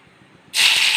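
Mustard seeds hit hot oil in a pan and erupt into a loud, steady sizzling hiss halfway through, after a quiet start, with no talking.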